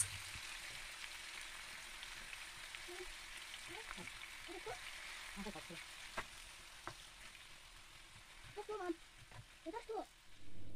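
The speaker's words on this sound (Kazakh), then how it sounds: "Майда жақсылап тұрып, қуырамыз." Chunks of meat sizzle in hot oil for lagman with a steady hiss, while a voice speaks intermittently over it and a few scrapes come near the end.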